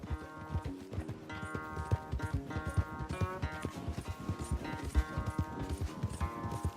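A horse gallops in a race in the video game Red Dead Redemption, its quick, steady clip-clop of hooves sounding close and loud over a bright orchestral music score.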